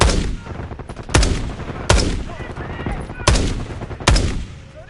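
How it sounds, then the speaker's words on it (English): Five sharp, loud gunshots in the video game Call of Duty: Black Ops 6 ring out about a second apart, each followed by a short echoing decay, with faint background noise between them. "Gunfire behind us."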